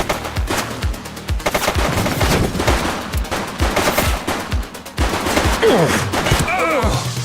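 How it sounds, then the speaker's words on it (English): Rapid bursts of automatic gunfire and single shots from a police shooter game set in a city, loud and dense over several seconds with rattling volleys and echoing cracks. "He's running. He's shooting!"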